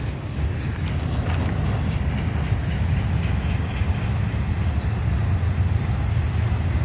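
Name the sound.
train passing nearby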